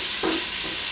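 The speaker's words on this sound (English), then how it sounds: "So we're sauteing this up." Food sautéing on a hot flat-top griddle for a steak and egg breakfast gives a steady loud sizzle, with a brief scrape of stirring partway through.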